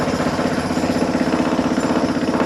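A power hammer chips through a basement wall during sump pump and waterproofing work, hammering loudly and continuously up close in a rapid, rattling pulse.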